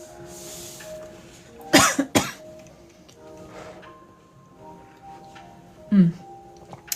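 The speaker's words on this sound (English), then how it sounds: "my cough will probably be a little bit more agitated." A couple of sharp coughs close by, followed a few seconds later by another throaty cough, with quiet room noise in between.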